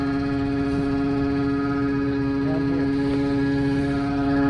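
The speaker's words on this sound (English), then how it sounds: "Carpet and upholstery cleaning. All right, that's the noise." A carpet and upholstery cleaning machine running nearby, giving off a loud, constant droning whine with a strong steady pitch that holds unbroken throughout.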